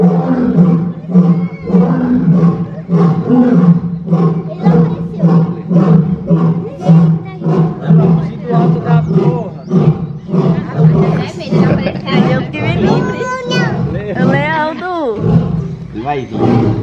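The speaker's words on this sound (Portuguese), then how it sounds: "Barulho do leão." A zoo lion roars repeatedly in loud, rhythmic grunting bursts that build into a long series, close and powerful, with visitors chattering and exclaiming nearby.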